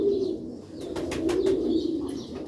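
Sialkoti pigeons of the pure Ali line give low, rolling coos, repeated close by and steady across the moment, with faint higher chirps flickering above.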